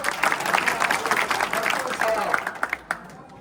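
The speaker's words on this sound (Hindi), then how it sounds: "इनके लिए एक बार जोरदार तालियां बजाएं।" Applause from a village gathering honouring a newly elected sarpanch, a dense burst of clapping that rises at once, holds, then thins into a few scattered claps before fading, with voices underneath.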